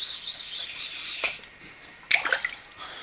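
A straight razor stroked across a wet Thuringen hone, a close hissing rasp of a long stroke, a short pause, then another scraping pass.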